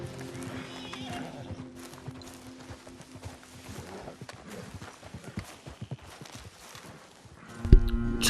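A horse in the Red Dead Redemption 2 video game whinnies and neighs as its hooves clip-clop over the ground, with a sharp louder burst near the end and faint game ambience underneath.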